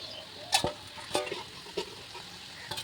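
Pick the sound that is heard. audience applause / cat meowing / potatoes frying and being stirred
potatoes frying and being stirred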